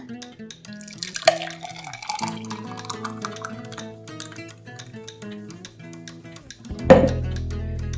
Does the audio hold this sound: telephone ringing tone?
no